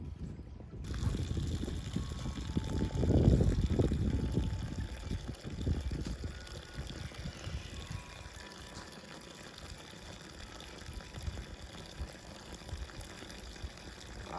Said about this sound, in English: Plus it's filling the tank on up with water right now.